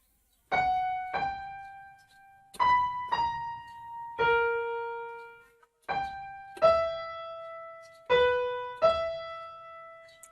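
A theme from Harry Potter played on a keyboard, a slow sequence of about a dozen clear sustained notes in the familiar melody, close and alone.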